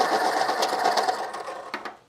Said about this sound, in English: So we're going to start out with the sharpener